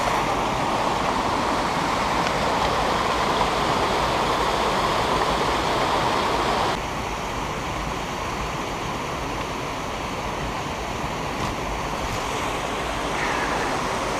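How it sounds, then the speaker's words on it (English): Surprise Creek, a mountain stream on a hike toward Glacier Lake, rushes in a steady, dense broadband wash of flowing water, loud and continuous with no voices over it. "Our first taste of nice, fresh mountain water from Surprise Creek."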